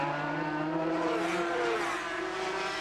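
High-revving Grand Prix racing motorcycle engine screaming down a 185 mph straight, a continuous loud whine with shifting pitch as it accelerates, heard up close as if riding on board, with no voices.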